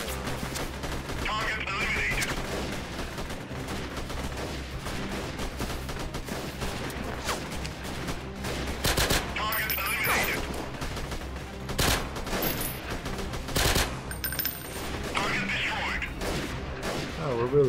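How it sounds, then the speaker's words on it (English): Sustained automatic machine gun fire in the war shooter Freeman: Guerrilla Warfare, dense overlapping bursts and louder cracks throughout, with a voice talking over the shooting. "It seems like our, machine guns are doing it to us."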